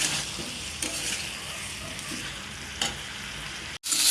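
Masala for a rupchanda fish curry with green banana, potato and bitter gourd sautéing in a pan, a dense continuous sizzle with stirring scrapes, briefly cut off near the end, no voices.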